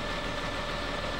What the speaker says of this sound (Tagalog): umandar na po ang ating makina